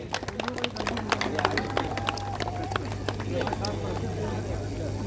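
An audience at a temple community feast claps to welcome a minister and the local MP, a quick, ragged patter of many hands that is steady but moderate in volume, under a steady low hum.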